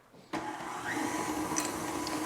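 A stand mixer starts up and runs steadily, its motor whirring loudly as it beats cake batter in a bowl, with no talking.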